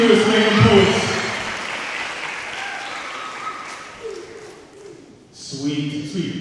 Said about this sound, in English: give a huge round of applause for your 2 years, Mayhem Poets